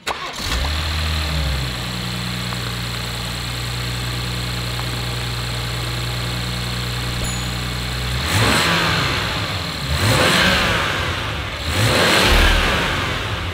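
A BMW M140i with an ITG air filter starts up, settles into a steady idle, then gives three sharp throttle blips that rise and fall, heard close and alone.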